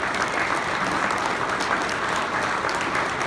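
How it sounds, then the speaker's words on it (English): Audience applause for a guest at a stage event, a steady dense clapping that fills the whole stretch at even loudness, with no pauses and no clear voices over it. "A round of applause for Adrienne."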